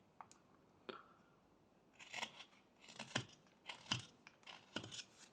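Slightly dull knife shaving a block of wood, quiet close scraping cuts arriving in short irregular bursts, some isolated and some clustered together, with no talking.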